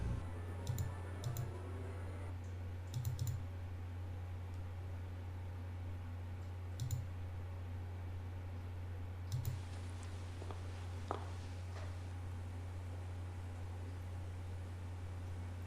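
Sparse, crisp mouse clicks come in small clusters over a steady computer fan hum while someone plays the point-and-click adventure Gabriel Knight 2: The Beast Within.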